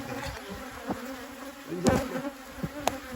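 Carniolan honeybees buzz at an opened hive during a brood check, a steady low hum with a few louder individual bees passing close by.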